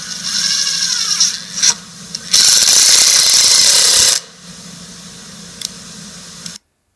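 A power drill whirs and bites into a wooden shop bench in a loud burst lasting a couple of seconds, between quieter motor hum and brief clicks.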